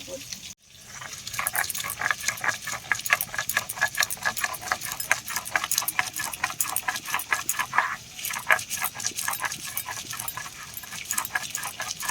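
Rhythmic rubbing and knocking of ginger, mustard seeds and cumin being ground into a paste on a grinding stone, a steady fast beat of scraping strokes that runs close and continuously, with a brief pause near the start.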